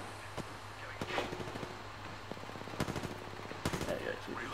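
Gunfire in the video game Apex Legends, scattered sharp shots and short bursts at moderate distance, fairly faint beneath a steady background hum.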